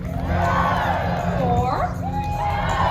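A large crowd cheers and whoops for Marvel heroes at a fireworks show on a Disney Cruise Line ship, the Disney Magic, with excited shouts and children's voices rising in a continuous loud roar throughout.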